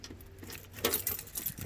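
A bunch of keys on a key ring jangles and clinks in short bursts as they are shuffled through by hand, fairly quiet and close, with no talking.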